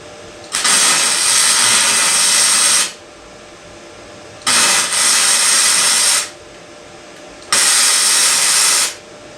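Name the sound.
flux core welder tack welding on race lawnmower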